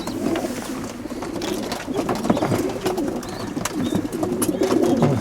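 Young pigeons packed in transport baskets inside a vehicle cabin, about 180 birds, coo continuously in a dense overlapping chorus, with rustling and wing movement throughout and no talk.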